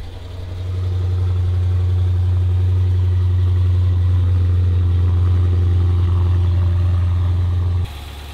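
A salvage Dodge Challenger 392 Scat Pack with blown airbags rumbles at a steady, loud, deep idle right after starting, close by, for about seven seconds before dropping off abruptly, with no talking.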